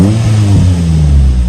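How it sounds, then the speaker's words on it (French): Morgan Plus 4 with a 2-litre Ford engine idling right after starting, a steady close low rumble with a slight rise in revs, loud and alone. "vous tournez la clé, et là vous avez tout de suite le ronron du moteur 2 litres Ford"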